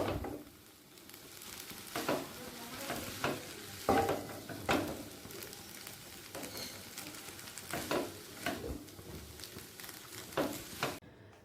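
Vegetarian chow noodles get mixed with lemon juice in a hot pan: a low sizzle runs underneath while repeated rhythmic scraping and tossing strokes come up close.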